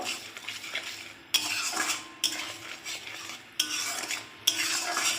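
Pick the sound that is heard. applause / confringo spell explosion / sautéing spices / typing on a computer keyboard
sautéing spices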